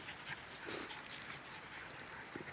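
Dogs from a pack moving about outdoors, heard as faint scuffling, panting and a few soft whimpers over steady background noise.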